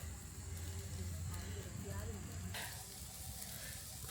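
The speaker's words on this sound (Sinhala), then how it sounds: "දැන් ගින්දර සරයි හොඳටම." A wood fire crackles and hisses under a pot of gooseberry pickle cooking in a village kitchen, a steady close-up rushing noise throughout.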